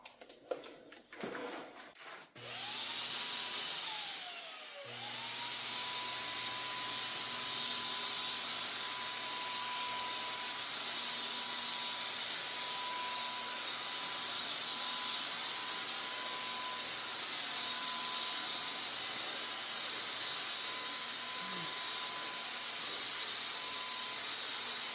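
A Phalanx electric spray gun sprays Rustoleum gunmetal pearl paint in a shop, a steady loud hiss with a constant motor whine that runs unbroken after a few brief clattering starts.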